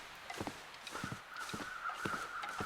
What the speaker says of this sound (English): Still have the birds overhead